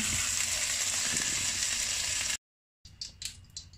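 Beef frying in hot oil in a pan gives a loud, steady broadband sizzle for over two seconds, then a brief silence, followed by fainter crackling spits and pops.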